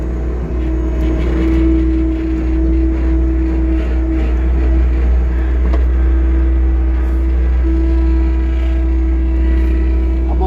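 A Bobcat skid steer on tracks, hauled with a pickup truck, rumbles steadily at close range as it lines up to drive onto a trailer, its diesel engine holding a constant loud drone with a slight whine.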